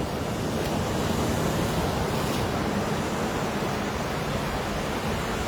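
Surf rolls steadily onto Las Cuevas Beach in Trinidad, a continuous broad wash of breaking waves mixed with wind buffeting the microphone, with no voices.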